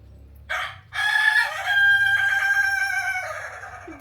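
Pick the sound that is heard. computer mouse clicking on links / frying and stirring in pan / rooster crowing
rooster crowing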